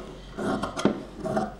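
Scissors snipping through cloth while cutting a grandma-style inskirt, a few soft rasping cuts and light handling noises close by at low level.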